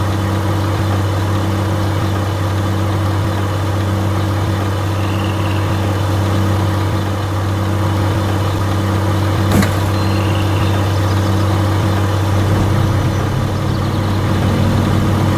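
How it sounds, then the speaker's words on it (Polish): A garbage truck's engine idles in a driving game, a steady low rumble with a constant drone that holds alone and evenly throughout, swelling slightly near the end. "naprawdę fajna ta śmieciarka"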